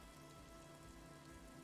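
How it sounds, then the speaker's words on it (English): Rain falls steadily in the video game Disco Elysium, a soft continuous patter on surfaces, faint and even throughout, with a low tonal ambient hum beneath and no voices. "Also, it's raining."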